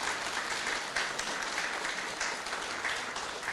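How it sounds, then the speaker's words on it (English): Audience applause at a book launch, a sustained even patter of many hands clapping at moderate distance, steady and unbroken with no voices over it. "Can we give her a round of applause?"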